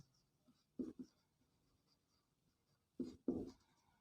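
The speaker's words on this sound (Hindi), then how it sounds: "इसके दो कॉलम बनाते हैं, एक में लिखते हैं स्टेटमेंट्स" Someone writes on a board or paper during a class 9 geometry lesson, giving two pairs of short, faint scratchy strokes close by in an otherwise quiet room.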